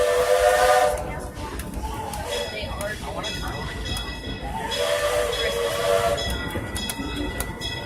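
The Disneyland Railroad steam train rolls along with a steady mechanical rumble and hiss, its steam whistle sounding in bursts near the start and again toward the end, with a voice talking over it.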